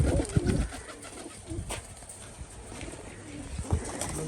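Pigeons cooing nearby in a loft, with low throaty calls repeating over a steady noisy background and occasional soft flutters or knocks.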